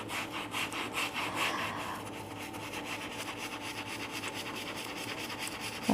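Baking soda being scrubbed into tile grout with a brush, a steady close back-and-forth rasping scrub, strongest in the first two seconds and then continuing evenly a little softer, with no voices.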